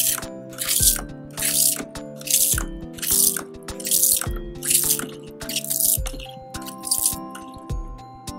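Shower water rinsing bath foam off a toy dog in a toy bathtub, heard as a series of regular hissing spray bursts about once a second over a light musical background.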